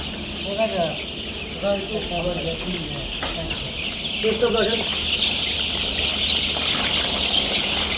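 Chickens on a poultry farm raising colour-bred birds cluck in short, scattered bursts close by, over a steady din of many birds chattering, with people talking in between.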